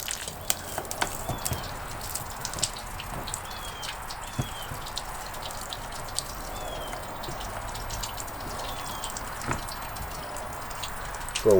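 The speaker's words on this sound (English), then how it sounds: "So let all the water fall out." Steady trickling and dripping water from RV drains during winterization, a low continuous splatter of liquid falling onto a hard surface nearby, with scattered drips and faint background noise.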